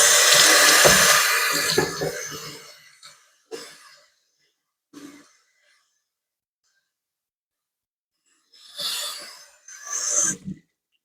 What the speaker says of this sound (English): Just going to rinse this out.